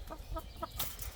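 Chickens cluck in a farmyard with short repeated calls, three quick clucks and a sharper squawk, fairly close and moderately quiet.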